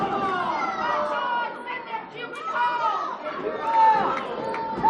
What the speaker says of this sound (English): These fans gotta stop this chanting.